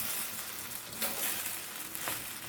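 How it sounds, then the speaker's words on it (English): Shrimp fried rice with some cabbage frying in a pan, giving a steady close sizzle with soft scraping stirs now and then and no talking. "We're not gonna add all the cabbage, just some of it. And we're gonna stir this in."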